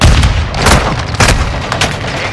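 Loud, dense gunfire from Call of Duty: Modern Warfare II multiplayer, with rapid overlapping shots and sharp cracks filling the whole moment in a close, continuous barrage.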